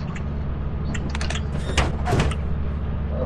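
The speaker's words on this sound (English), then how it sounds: "How about we close the fucking door just in case?" In the video game Lethal Company, a metal door slides shut with a creaking mechanical grind and a couple of clanks, set over a steady low hum.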